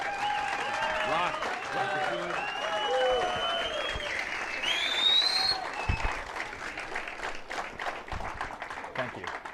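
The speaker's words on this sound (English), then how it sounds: "let's have a big round of applause for Jason Bermas" A crowd breaks into sustained applause with some cheering and voices mixed in, the clapping continuing steadily throughout.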